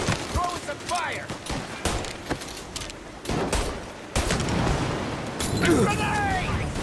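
Dense gunfire rattles through a shootout in the video game Mafia: Definitive Edition, with overlapping bursts and loud shots under voices shouting.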